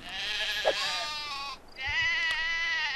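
Sheep bleat in the video game Black & White 2, a pair of drawn-out, wavering bleats close and clear, separated by a brief pause, with faint background game sounds.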